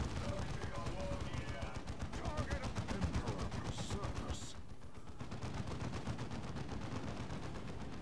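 Rapid automatic gunfire in the strategy game Dawn of War II: Chaos Rising, a dense rattling stream of shots that barely pauses, with game voices mixed in.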